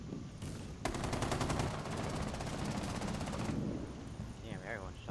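Rapid automatic gunfire in the video game Rainbow Six Siege, a fast even burst of shots lasting about three seconds, close and loud, with a brief earlier shot and some voices in the background.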